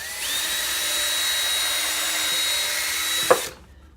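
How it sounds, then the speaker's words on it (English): A power drill fitted with a 1/16 inch bit runs in one continuous high whine for about three seconds while drilling a pilot hole in a wooden birdhouse, then cuts off with a short click. "Drilling some pilot holes for small screws."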